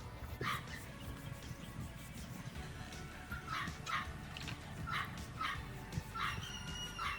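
Dogs barking repeatedly in the distance, short yips and barks spaced irregularly over a low background rumble.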